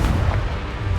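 A Confringo blasting spell detonates in Hogwarts Legacy, a dense, loud, booming explosion with a deep rumbling low end that fills the whole second.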